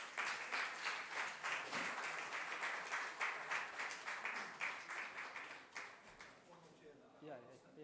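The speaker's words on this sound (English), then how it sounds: "please welcome them on the stage with a round of applause" Rhythmic audience applause in unison at a Nepal–UK economic partnership forum as guests are welcomed onto the stage, steady pulsing claps that fade out near the end as voices begin talking.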